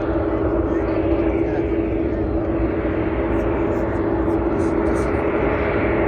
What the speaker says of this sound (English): Commercial airline, isn't it?